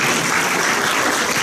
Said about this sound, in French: je pense que tout ceci mérite de larges félicitations et des applaudissements.